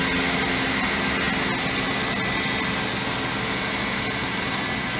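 A 2003 Hurco VM1 CNC machine holds its spindle at 3,000 RPM, a continuous steady high whine over a broad airy roar, unchanging and close throughout.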